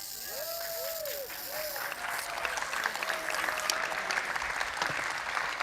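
An audience claps in steady, sustained applause for a group of young space cadets at a live demonstration, a dense crowd sound that swells slightly after the first seconds, with a few whistle-like tones early on.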